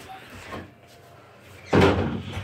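A door slams shut once in a quiet indoor room, a loud short thud and rattle arriving near the end after a faint earlier knock.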